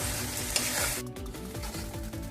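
Spice mixture for raw banana kofta curry sautéing in a pan, a loud close sizzle with rhythmic scraping strokes of a spatula, no voices.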